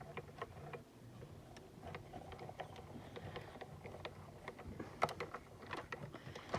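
A small desktop die-cutting machine being cranked by hand for card making, giving a steady run of soft mechanical clicks and ratcheting ticks up close with no voices.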